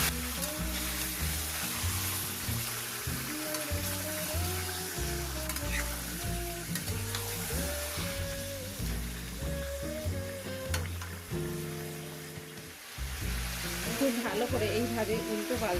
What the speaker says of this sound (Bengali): এবার আমি নাড়াছাড়া করে তাকে কষে নেবো